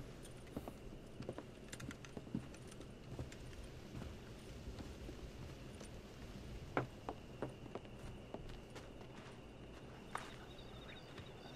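Horse hooves clip-clop at a steady walking rhythm in Red Dead Redemption, on a ranch where horses are being broken in, with sharper hoof strikes standing out over a constant bed of outdoor ambience.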